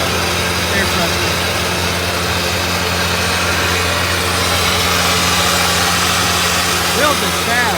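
Air compressor runs on a 2019 Freightliner M2 tire repair truck, a steady mechanical drone with engine idle rumble underneath, continuous and close for the whole stretch.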